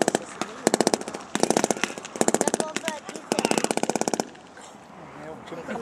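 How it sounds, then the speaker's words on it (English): Soldiers lay down suppressive machine gun fire in repeated rapid bursts of sharp automatic reports, several long strings separated by brief pauses, loud and close, with a quieter gap at the end. "He's got Charlie putting down suppressive fire."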